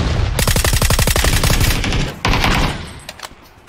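Rapid automatic gunfire in the video game PUBG, a fast, loud burst of evenly spaced shots lasting about two seconds, then a second burst and a few trailing single reports fading out.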